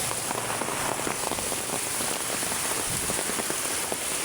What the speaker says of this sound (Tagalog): Ang lakas guys ng ulan.